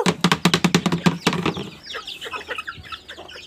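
Chickens and chicks cluck in a quick run of loud, close, rhythmic notes that give way to softer, higher peeps and chirps.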